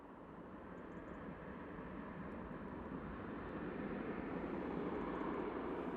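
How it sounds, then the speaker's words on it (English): A Boeing 737 at Manchester Airport, its engines producing a steady, distant broadband roar that grows slightly louder over the few seconds. "There goes that 737."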